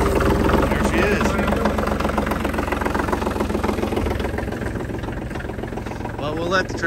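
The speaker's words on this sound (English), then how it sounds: "Well, we'll let the tractor run." A diesel tractor engine idles with a steady rapid knocking chug, loud and close, while a voice speaks over it near the end.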